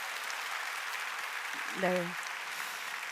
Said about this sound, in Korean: 본인에게 큰 박수 한번 보내주시기 바랍니다